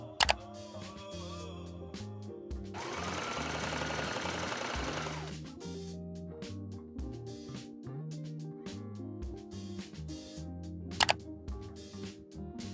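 A sewing machine runs top stitching along dress seams, a quiet close mechanical whir with rapid needle ticking, steady for about twelve seconds with a brief denser burst near the middle and a couple of sharp clicks.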